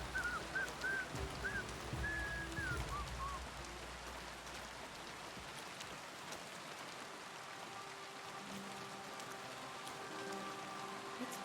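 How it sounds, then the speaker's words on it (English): Steady hissing downpour of rain in the video game Kingdom Come: Deliverance 2, a dense continuous patter that lasts throughout, with a few faint bird whistles early on. "hissing down rain."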